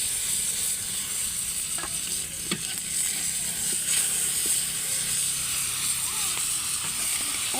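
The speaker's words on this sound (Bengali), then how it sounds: "এদিকে সিমটা কষায় নিচ্ছি আমি এভাবে একটু কষায় নিব পাঁচ মিনিটের মতো" Flat beans being sautéed with spices in a pan make a steady sizzle and hiss, with occasional light clinks and scrapes of stirring, close up and without speech.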